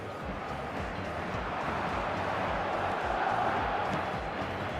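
Stadium crowd in the eFootball video game, a dense continuous roar of cheering and shouting that swells slightly toward the end, with a faint commentator voice underneath.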